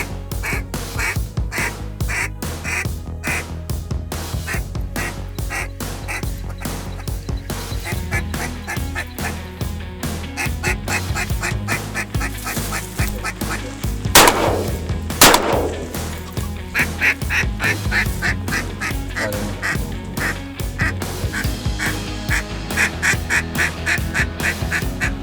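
Wood ducks calling during a duck hunt at an Ohio duck camp: steady repeated quacking and honking from several birds, fairly close, with a louder burst in the middle and a faint voice at times.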